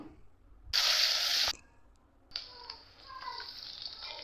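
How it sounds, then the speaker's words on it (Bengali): Chopped onion hits a hot pan while chicken khichdi is cooked: a loud, hissing sizzle bursts up for under a second, drops back, then settles into a softer, ongoing crackle of frying. "কাটা পেঁয়াজটাও দিয়ে দিতে হবে পেঁয়াজটা দেওয়ার পরে খুব ভালো করে ভেজে নিতে হবে"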